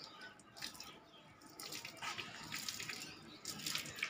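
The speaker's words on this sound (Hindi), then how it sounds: "उबलता हुआ पानी डाला है" Boiling water poured onto a charpai bed to kill bedbugs, a continuous splashing, pattering stream of liquid heard close and fairly faint, with no talk.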